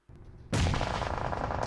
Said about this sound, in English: They're even shooting blind into the smoke right now, but Sneaky just waiting patiently.